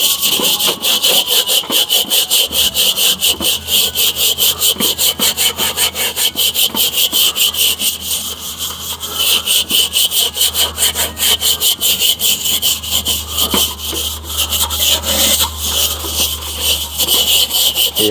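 Steel wool rasps hard against the enamel of a Weber kettle grill lid coated in Goo Gone, a loud, fast back-and-forth scrubbing rhythm that continues without pause.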